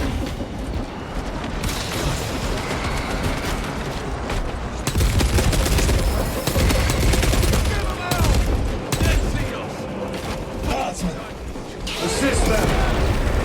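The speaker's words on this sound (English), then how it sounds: "Small arms fire. It sounds close." Close, heavy small arms fire from Warhammer 40,000: Space Marine 2, with sustained bursts of shots, booms and crashes running throughout, and voices talking beneath the gunfire.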